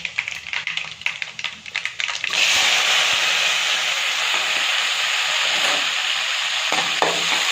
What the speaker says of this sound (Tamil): வெங்காயம் நல்லா ஃப்ரை ஆகணும்.